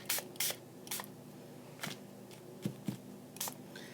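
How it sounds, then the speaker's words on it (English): Short bursts from a spray can or bottle, coating a piece of junk-shop furniture, about eight quick hisses of uneven spacing in a quiet room, each lasting a fraction of a second. "so we'll spray"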